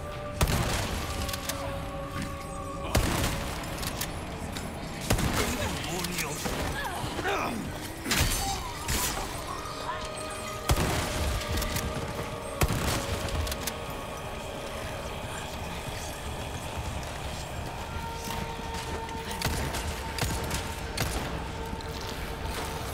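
Enemy shooting in the Resident Evil 4 video game, with booming shots and thuds over a dense game soundscape, scattered impacts at intervals, and a voice speaking at times.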